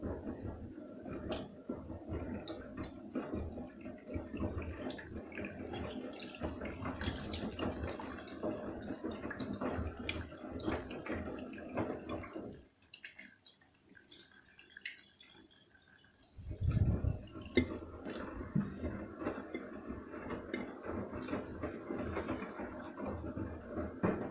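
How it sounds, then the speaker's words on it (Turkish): Water poured into a washing machine drum, a steady close splashing rush that pauses briefly in the middle, then resumes just as strongly. "Makinenin içerisine ekstra su döküyorum."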